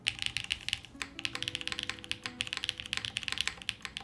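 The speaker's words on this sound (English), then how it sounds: "as it is right now, I think the keyboard sounds pretty good" Rapid typing on a Martingale mechanical keyboard, a steady stream of close, crisp keystrokes with a light, clacky feel and a faint low hum underneath.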